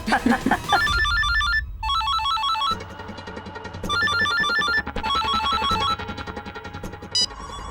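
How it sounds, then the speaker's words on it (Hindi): A telephone rings in a Hindi television drama scene: a bright electronic ringtone repeats in short melodic bursts, loud and close, over a low dramatic music bed. "फोन हमने निर्मला जी को लगाया और बात रोशनी से हो रही है।"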